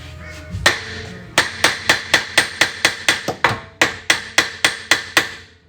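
Sharp metallic hammer blows on drift car parts strike repeatedly at a steady, quick rhythm, about fifteen hits in a row after one early knock, loud and close.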